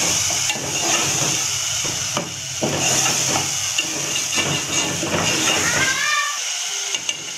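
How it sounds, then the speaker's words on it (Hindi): Ginger garlic paste frying with minced meat in a pan gives a loud, continuous sizzle and hiss, broken by bursts of stirring and scraping, with a brief high whistling squeal near the end. "और अदरक लहसुन का पेस्ट डाल देंगे और इसको इन सब चीज़ों को भून लेंगे।"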